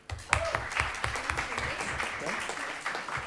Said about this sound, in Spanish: pido un gran aplauso por parte del público